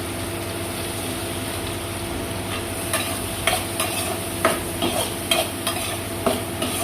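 Onions frying in a pan with turmeric, a continuous dense sizzle with a low steady hum underneath and repeated scraping stirs toward the end, close and fairly loud.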